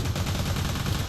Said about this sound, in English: That was an amazing explosion